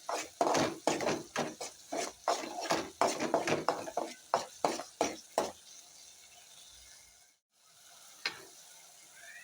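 Rice stirred with a pinch of turmeric in a metal pan for jamun-fruit rice: a quick run of close, rhythmic scraping strokes that slows and thins out, then a short pause and one last scrape.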